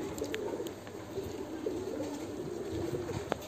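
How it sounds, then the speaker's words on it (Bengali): Lakha fancy pigeons cooing softly on a farm, low repeated throaty coos rolling on over a steady background hum, with a few faint clicks and shuffles nearby. "এই যে দেখেন লক্ষা কবুতর"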